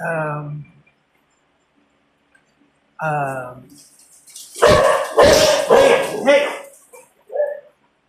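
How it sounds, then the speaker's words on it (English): Dogs bark at cats nearby in short loud bursts, with whimpering yelps between them and quiet gaps of silence. "they're barking at these cats."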